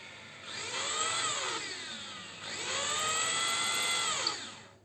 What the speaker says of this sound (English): Just drill in slowly, and as you can see the dust, can you see that?